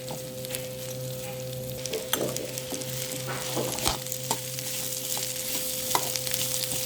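Raw banana pieces frying in oil, a continuous close sizzle with scattered soft crackles and occasional stirring scrapes, steady throughout with no voices.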